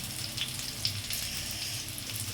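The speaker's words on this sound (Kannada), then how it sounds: "ಪನ್ನೀರ್ ಸ್ಟಿಕ್ಸ್ ಅಂತೆ ನೋಡಿ ಫ್ರೈ ಮಾಡಿ" Paneer sticks frying in oil give a steady, moderate sizzle with small scattered pops, heard alone without talk.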